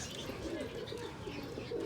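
Pigeons cooing softly in a loft, a steady murmur of low, overlapping coos that continues throughout at moderate level.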